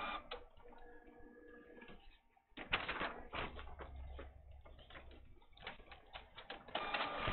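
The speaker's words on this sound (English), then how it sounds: "And it's printing a 4th page" An office printer runs a print job at low volume, with a repeated ticking, clicking mechanism and paper-feed whirs, pausing briefly before resuming.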